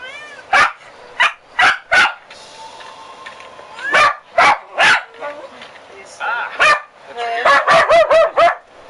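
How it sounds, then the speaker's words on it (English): Barking from a dog in a video game, several sharp, loud barks and yips in quick bursts with short pauses, mixed with someone talking between them. "A dog that barks at you from a mile."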